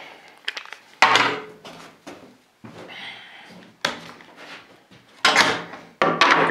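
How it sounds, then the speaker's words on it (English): Woodworking clamps are taken off a table saw in a series of loud, close metallic and wooden clunks and rattles, separated by short quiet gaps. "Now we take our clamps off of here."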